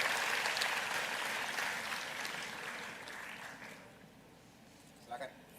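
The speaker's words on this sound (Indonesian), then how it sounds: "Mari kita tepuk tangan dulu untuk Pak Erlangga." Applause from an audience at a net-zero summit forum in Indonesia starts loud and full, then gradually thins and fades over several seconds, with a few scattered claps near the end.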